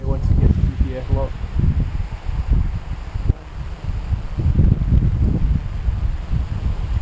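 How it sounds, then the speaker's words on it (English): Strong outdoor wind of about 25 mph buffets the microphone in loud, uneven low rumbling gusts while someone speaks over it. "Considering it's 25 miles an hour wind, that's pretty good"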